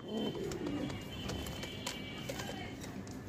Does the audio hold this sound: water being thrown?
no